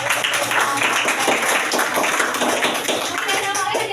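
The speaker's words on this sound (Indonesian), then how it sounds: "Beri tepuk tangan yang meriah" A school class giving a round of applause, brisk rhythmic clapping from a roomful of students, fairly close and loud, with voices mixed in under it.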